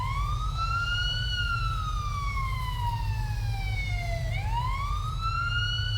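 A wailing ambulance siren in the video game Police Simulator slowly rises and falls in pitch, then sweeps back up, sounding steadily over a low engine hum with no talking.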